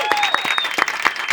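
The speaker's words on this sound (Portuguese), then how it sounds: "Palmas pro Pedrão!" Studio audience clapping for a podcast guest, a short burst of close, loud, dense applause with cheers mixed in.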